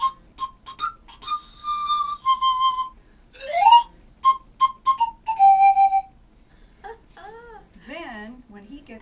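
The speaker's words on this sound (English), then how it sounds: "This is an inline panpipe, which means it comes from Europe." A European inline panpipe plays a series of short, breathy melodic notes and bending phrases near and fairly clear, with brief gaps between figures, the kind of pipe used for young Simba in The Lion King.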